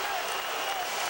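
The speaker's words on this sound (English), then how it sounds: "but the crowd into it big time now." A college basketball arena crowd, Vanderbilt hosting Tennessee in 2008, roars and applauds in a dense, steady wash of noise.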